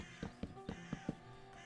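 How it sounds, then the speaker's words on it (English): A crow on a farm gives a quick series of five harsh caws, evenly spaced and fairly faint, heard alone against quiet outdoor background. "Loud ass crow."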